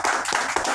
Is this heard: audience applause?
yes